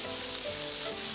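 Peeled, deveined shrimp sizzle in a pan for a Szechuan-style stir-fry, a dense steady frying hiss with no gaps, close and even throughout.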